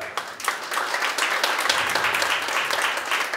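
Concert audience at a beer club clapping in sustained applause for the venue, a dense wash of many hands from a crowd, fairly loud and even throughout.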